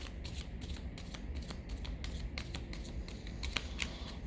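Close, crisp riffling and slapping of a deck of cards being shuffled for a card reading, in quick bursts of repeated flicks with no talk.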